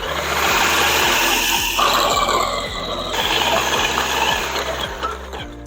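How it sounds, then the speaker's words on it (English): Food processor fitted with a shredding disc grating pepper jack cheese, a loud motor whir with rhythmic knocking pulses that shift pitch as the cheese feeds through, no talk. "I want to try out my new food processor"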